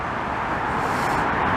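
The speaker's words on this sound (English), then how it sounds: "all that noise you hear there is from the highway" Steady, continuous roar of highway traffic from a sunken highway in Montreal's Snowdon/Hampstead area, a dense broadband wash of passing vehicles with no distinct events and no talking.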